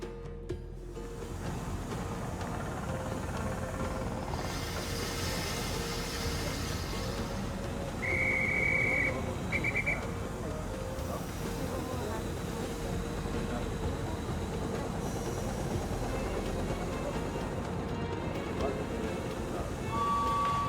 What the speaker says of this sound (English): His train is a beautiful machine.